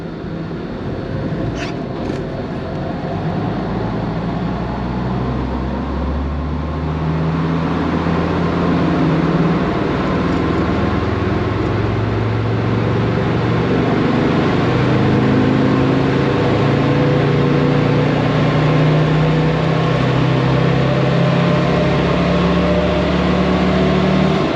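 A Land Rover Defender Td5 diesel engine pulling on a dyno after a remap and a new crank sensor, a loud, sustained drone whose pitch climbs steadily through a long power run with no talk over it.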